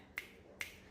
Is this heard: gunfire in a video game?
no